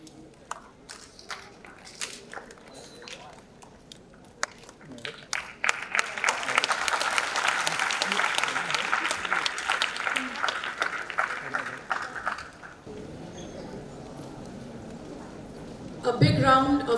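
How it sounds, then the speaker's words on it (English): Applause breaks out at a school annual day function for the release of a magazine issue, starting as scattered claps and swelling into a dense, sustained ovation before tapering off, with a voice speaking on stage. "A big round of applause."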